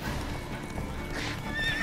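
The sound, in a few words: horse whinnying and hooves in video game The Witcher 3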